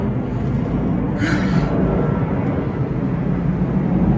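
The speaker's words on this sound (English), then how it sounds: "The fucking airplanes, you guys, come on." A steady, loud low rumble of a propeller plane passing overhead near a private airport, filling the whole clip with a broad engine drone and no voices.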